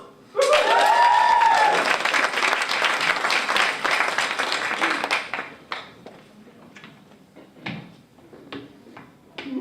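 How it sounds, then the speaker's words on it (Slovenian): An audience at a stage show bursts into loud, dense applause, clapping steadily for several seconds before thinning into scattered claps and a few last slaps. "Aplavz!"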